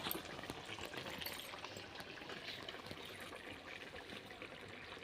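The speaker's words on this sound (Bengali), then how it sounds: "অল্প পরিমাণ জল দিয়ে নামিয়ে নেব ফুটিয়ে।" A small splash of water poured into a meat and cauliflower curry, a faint, steady trickling and gurgling heard close up with no talking.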